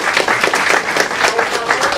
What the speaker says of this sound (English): he deserves an applause